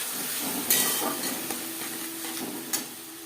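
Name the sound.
spice paste, tomato and ginger frying in oil for fish curry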